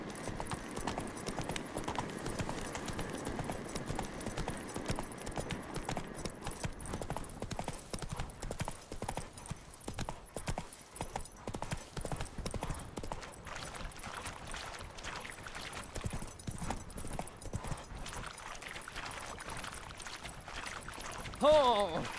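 A horse gallops in The Witcher 3, its rapid rhythmic hoofbeats clip-clopping steadily at moderate volume for the full stretch, with a faint brief neigh or call near the end.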